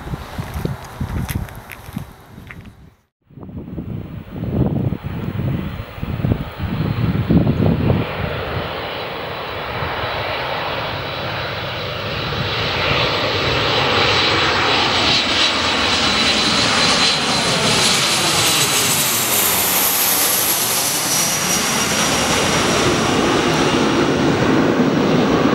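An MD-80 jet airliner spools up and roars past on departure, its engine noise building to a loud, sustained rush with a rising whine; faint wind and footsteps at the start.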